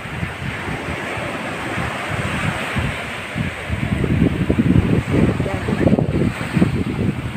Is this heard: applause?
no